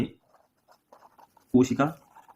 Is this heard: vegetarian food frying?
no